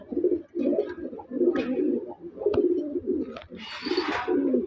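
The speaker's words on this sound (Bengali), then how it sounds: "কবুতরগুলো অনেক সুন্দর।" Domestic pigeons coo close by in a run of low, rounded phrases separated by short pauses, with a brief soft rustle near the end and no voices.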